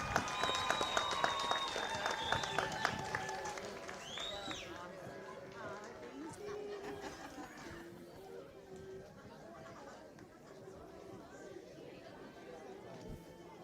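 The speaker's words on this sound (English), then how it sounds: "Let's give her a round of applause to Miss Laura Ketches" A graduation ceremony audience gives a graduate speaker a round of applause, with dense clapping, loud at first and fading into crowd chatter and scattered claps.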